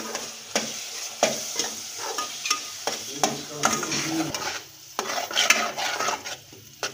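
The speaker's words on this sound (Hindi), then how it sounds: "अब हम इसमें तकरीबन 2 चम्मच बेसन के शामिल करेंगे। और इसको अच्छे तरीके से हम भून लेंगे।" Gram flour roasting in hot ghee for a dates halwa, with a spoon scraping and stirring through it in a steady run of clicks and scrapes over a soft, continuous sizzle, close by and fairly loud.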